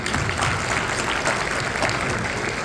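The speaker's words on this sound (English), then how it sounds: "Please give them a round of applause." A crowd at the CIOGC 33rd annual gala claps for county treasurers after a round of applause is called for. The clapping is loud, dense and continuous and runs through the whole short stretch without talk.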